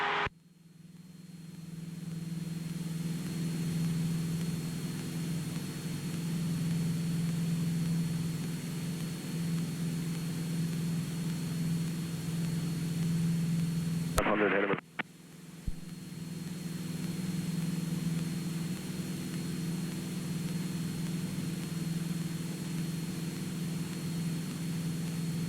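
Steady, droning hum of a Cessna piston engine climbing at a steep nose-up attitude and low airspeed, heard from inside the cabin and continuous apart from a brief click and dropout midway.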